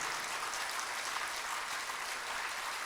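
Audience at a chaturmas religious discourse in Raipur clapping: a dense, even wash of applause from many hands, steady and moderately distant throughout, with no voices.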